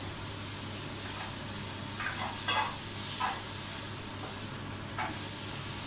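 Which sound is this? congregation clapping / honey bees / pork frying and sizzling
pork frying and sizzling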